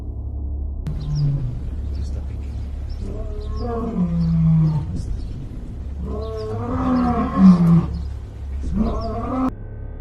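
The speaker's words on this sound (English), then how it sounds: "He was very fearful and crying a lot. He is a Tasmanian wolf." A frightened Tasmanian wolf kept in a cage cries out in a series of drawn, wavering wails and moans, some short and some long, heard up close over a low background rumble.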